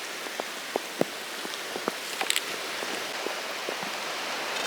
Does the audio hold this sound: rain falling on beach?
yes